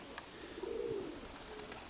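A single soft pigeon coo rises and falls at close range over quiet background hiss, with a faint second coo trailing after.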